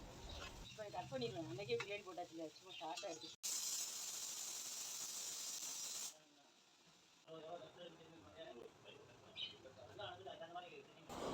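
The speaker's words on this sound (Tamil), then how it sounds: "இப்போ வந்து பிரியாணி வந்து தாளிச்சிட்ருக்கேன்" A loud, steady hiss of biryani spices sizzling in hot oil while tempering bursts in for a few seconds, with someone talking before and after it.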